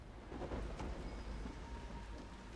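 Rain pours heavily in the Fallow Mire area of the video game Dragon Age: Inquisition, a faint, continuous hiss with a low rumble beneath it and no talking.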